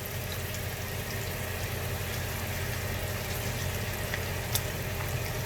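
Okra pieces coated extra in chickpea flour frying in hot oil, a continuous bubbling sizzle with small crackles and pops, fairly close and steady.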